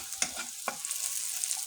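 Sliced onions fry in a pan for a home-style chicken curry. A soft, quiet sizzle is punctuated by two brief spatula scrapes near the start, with no voices.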